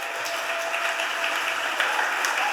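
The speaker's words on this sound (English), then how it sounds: "Let's give these young men a round of applause." Steady applause fills city council chambers, a dense wash of many hands clapping at moderate distance, with no voices over it.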